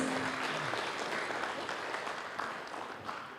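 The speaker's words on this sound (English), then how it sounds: "please give applause to our moderator and our speakers" Audience applause at a plenary session fills the hall, a steady dense wash of clapping from a large crowd heard at moderate distance without talk over it.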